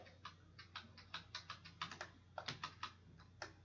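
Computer keys are tapped in a quick, irregular run of light clicks, close and fairly quiet, while a Ctrl+Z undo is entered with no talking.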